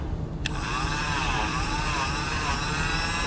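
A Dremel rotary tool polishes a dirty plastic knob on a White 600 sewing machine, its high steady whine starting abruptly and holding close and loud for a few seconds.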